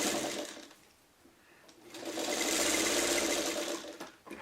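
Sewing machine stitching quilt sashing strips together, a close, steady motor whir with rapid needle clatter that dips briefly, then runs again at full speed.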